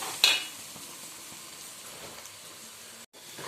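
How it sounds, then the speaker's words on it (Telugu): Chili powder for a fish curry sizzles in hot oil with a steady, close hiss. A brief clink of a utensil comes near the start, and the sizzle is cut for a moment near the end. "కారం వేగిన తర్వాత ఇలా వేగాలన్నమాట"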